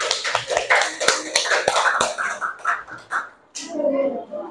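Children clap their hands together in a classroom, a ragged burst of many small claps with a few sharper individual slaps, fading out as a voice and chatter follow.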